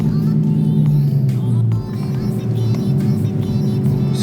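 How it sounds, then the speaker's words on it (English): Loud, close engine drone from a 900 whp Dodge Hellcat heard from inside the car on throttle, a deep steady roar with a slight dip and recovery partway through. "it's a lot more jumpy on the throttle compared to my car, and it's loud. Definitely loud in here."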